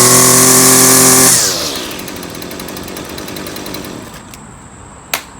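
A Husqvarna 128LD string trimmer with a new gearbox fitted runs at a loud high-revving whine, then drops to a steady idle buzz, close by, with a sharp click near the end.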